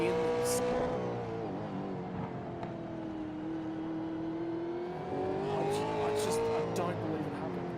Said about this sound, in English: I love these onboard shots, just listening to the throttle with these guys, just trying to get the power down.